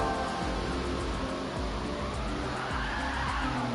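A Gr.3 race car in Gran Turismo 7 at Willow Springs Raceway nearly losing control, its tires squealing and skidding continuously under a loud, close, droning engine for several seconds.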